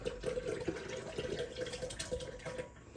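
Premier Protein shake poured from a bottle, a steady close liquid pour running for about three seconds with no talking.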